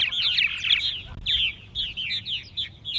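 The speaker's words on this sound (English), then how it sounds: "they'll do a dawn song in the hopes of attracting new birds" Purple martins sing a dawn song near a colony, with repeated high warbling chirps and gurgles in a steady stream, close and fairly clear over a low rumble of background noise.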